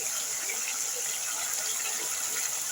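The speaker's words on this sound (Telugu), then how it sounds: "దీంట్లోకి అయితే వాటర్ పోసుకొని ఉండలు లేకుండా కలుపుకొని" Water pours steadily into a bowl of corn flour for a chicken Manchurian batter, a continuous close hiss and trickle with no pauses and no voices.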